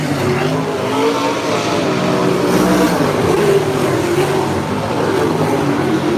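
Sprint cars roaring around Unity Raceway on the final lap of a Sprint Cars of New England championship race, a dense, continuous loud engine drone from several cars at once with no pauses.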